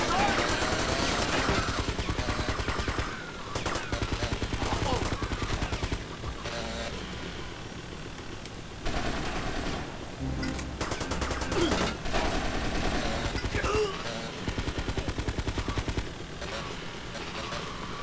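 Drive-by gunfire in GTA: Vice City Stories, bursts of rapid shots over game music and engine noise, fairly loud and close, with a short gap between bursts.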